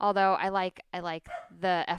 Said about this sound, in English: I apologize for any barking.